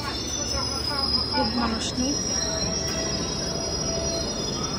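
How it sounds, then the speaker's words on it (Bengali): An underground metro train pulls into a nearly empty station, its wheels squealing in a steady, piercing metallic screech over the rumble, with people talking nearby. "ট্রেন চলে আসছে"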